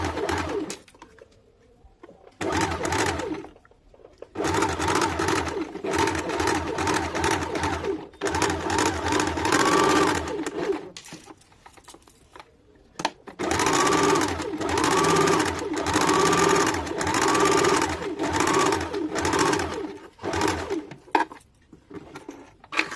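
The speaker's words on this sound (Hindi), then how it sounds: "अब इसको ऊपर वाले तरफ को भी पकड़ के सिल देंगे।" A sewing machine stitches fabric for a palazzo in bursts of rapid mechanical whirring separated by short pauses, close and clear, while pigeons coo in the background.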